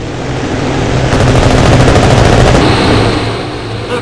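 Sustained rapid machine-gun fire from an RAF fighter during an attack, a loud continuous rattling burst lasting several seconds with dense rapid repetition and no talking over it.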